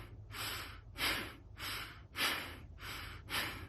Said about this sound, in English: There is that which is a billows breath, which is like using the diaphragm, like a big billows